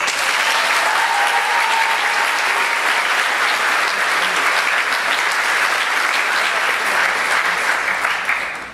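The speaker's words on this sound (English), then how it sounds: "Join me in giving them a round of applause." A high school graduation crowd gives school staff a loud, sustained round of applause: thick, even clapping that continues unbroken and tapers only slightly at the very end.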